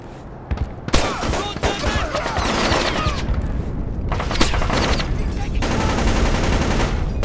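Gunfire in Splinter Cell Chaos Theory: rapid bursts of automatic shots and sharp cracks, loud and dense, firing in clusters with brief gaps over several seconds.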